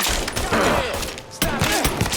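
Rapid gunfire from the video game Mafia III, loud and dense bursts with heavy thuds and clatter, pausing briefly before another volley erupts.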